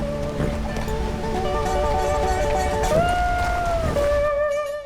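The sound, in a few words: waterfall in Red Dead Redemption 2 video game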